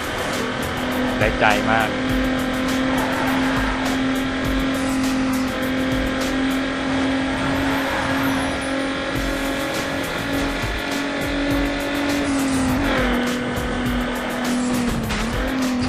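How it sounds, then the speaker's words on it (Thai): Hyundai Tiburon GT racing in the Need for Speed Underground video game, engine droning steadily with tire squeal and skids through corners, while someone comments excitedly over the game audio. "โอ้เสียงกริปยางนี่แบบ"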